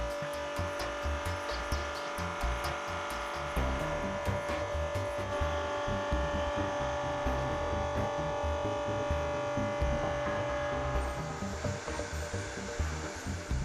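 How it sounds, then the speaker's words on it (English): BDS AutoCUT 500 milling machine running with its feed motor switched on, a steady electric whine and hum with a fast throbbing motor pulse underneath, continuous and fairly close, with no talking. "switch the feed motor on and use the grey rotary knob to set the feed rate so that the machine is slowly fed into the material"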